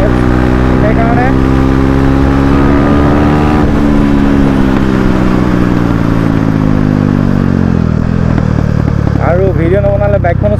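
A motorcycle engine runs loud and close for about ten seconds, a steady low rumble that dips and climbs in pitch, with someone talking over it.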